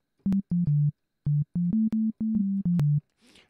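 A plain sine wave synth instrument in Ableton Live plays a short melody of about a dozen clean, steady tones, some held and some clipped, with a brief breathy noise at the end.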